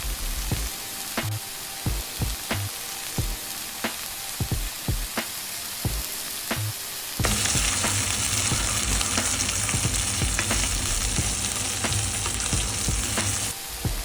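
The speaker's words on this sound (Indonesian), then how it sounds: "Kemudian bawang bombay merah besarnya masuk guys, ditumis-tumis." Red onion and dried chili stir-fried in a pan, crackling sizzle with scattered tapping of the spatula, then a louder, steady hiss of frying for the latter half.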